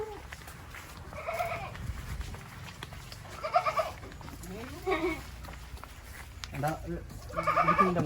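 Goats on a goat farm bleat several times in short, wavering calls from nearby, scattered across the clip over a low background of farm noise, with people talking softly at times.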